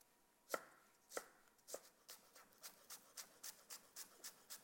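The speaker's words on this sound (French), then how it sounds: "On émince le poireau." Knife slicing a leek on a board: a few slower, louder cuts give way to a quick, regular run of softer slices, close and fairly quiet.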